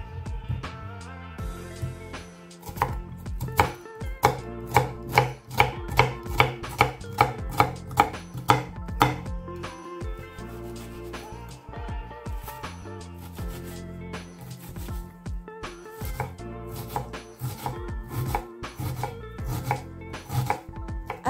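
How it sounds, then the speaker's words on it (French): Knife slicing an onion on a cutting board, a long run of crisp, close, rhythmic chops in bursts, quickening into rapid even strokes and then slowing, with light clinks between and no talking. "Émincez l'oignon."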